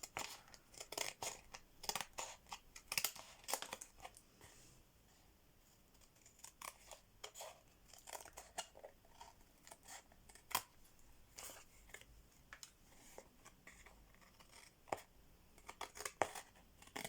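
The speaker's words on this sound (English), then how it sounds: "find my snips, and chop off the excess" Snips make repeated close, crisp snipping cuts through excess paper in a papercraft stamping project, with a pause midway and light paper rustling between the cuts.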